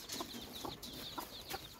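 Chicks peep and a hen clucks softly on a farm, a faint series of short high chirps repeating every half second or so over quiet outdoor background.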